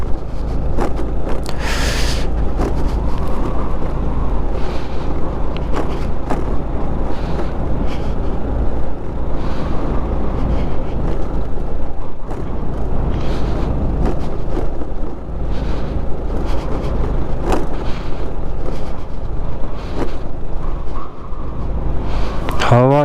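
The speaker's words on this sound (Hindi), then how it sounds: "हवा चल रही है बहुत ज़्यादा" Strong, steady wind roars and buffets the microphone on the high Chang La mountain pass in Ladakh, a continuous loud rumble with gusts through the whole stretch.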